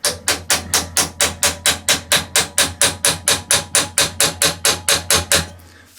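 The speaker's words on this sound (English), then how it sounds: "little hammer, not a big huge one, just tap it around" A small hammer taps metal about twenty times in a quick, even rhythm while assembling a 20-tonne hydraulic press, sharp ringing strikes close by, then stops.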